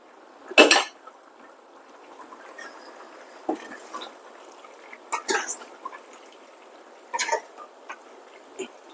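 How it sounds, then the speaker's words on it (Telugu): Chicken pieces are tipped into a pan of masala curry: a sharp metallic clatter and scrape, then scattered spoon taps and wet knocks against the pan, close and fairly quiet, with no talking. "ఇప్పుడు మనం ఈ చికెన్ని వేసేద్దాం. ఇందులో మొత్తం చికెన్ అంతా వేసేద్దాం."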